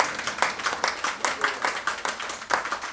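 An audience applauds at an astrology conference in Chandigarh, clapping in a steady, rhythmic beat. The crowded hand claps sound loud and close, with a faint murmur underneath.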